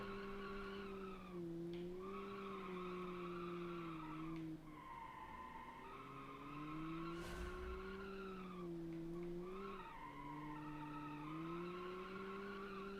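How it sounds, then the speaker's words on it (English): Sustained tire squeal from a car spinning one wheel in BeamNG.drive during a race set around a 1979 oil-crisis theme. The pitch wavers and rises and falls in long stretches over a steady engine tone, close and continuous, with no talking. "The one wheel peel is real."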